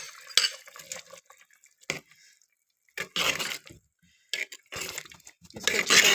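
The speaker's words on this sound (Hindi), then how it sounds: "इसको अच्छी तरह मिक्स कर ले, भून ले।" A spoon stirs fried, finely ground onion paste into deghi qorma in a pot, making intermittent scraping and wet clattering bursts separated by quiet gaps.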